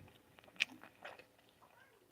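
Someone chews and bites food close up, with soft wet mastication and a couple of sharp crunchy bites in a quiet room.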